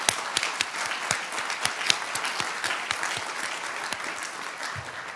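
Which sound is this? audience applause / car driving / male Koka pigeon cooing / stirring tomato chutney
audience applause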